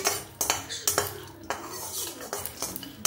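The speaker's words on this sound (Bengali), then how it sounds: "এরপরে সূর্যমুখীর বীজটাও ভেজে নিচ্ছি। সবই অল্প রোস্ট করে নেওয়া, ড্রাই রোস্ট, শুকনো খোলায়।" Sunflower seeds dry roasted in an empty pan, with sharp metallic scrapes and clinks from stirring repeating every half second or so, close and fairly loud, over a faint background hiss.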